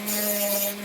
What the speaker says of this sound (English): just grinding that plastic down until you get a hole